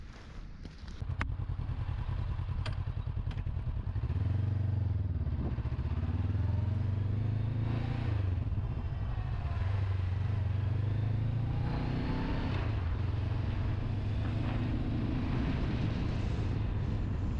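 Honda CB500X motorcycle riding through a city on a windy day, its engine droning steadily up close with rising and falling revs as it shifts through gears, under wind rush.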